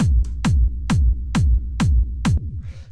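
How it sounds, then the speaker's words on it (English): Dark warehouse techno kick drum passed through an effect rack with delay, punchy hits over a continuous rolling low rumble that fills the gaps between beats, loud and dense throughout. "So you can hear this is doing the rumble."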